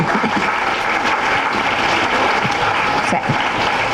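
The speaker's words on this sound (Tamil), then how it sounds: "இதுக்காகவே ஒரு கைத்தட்டு கொடுக்கலாம்" Loud applause for the children at a school gathering with Dr. Tamilisai Soundararajan. A crowded hall claps vigorously and steadily for the whole stretch, with no break in the noise.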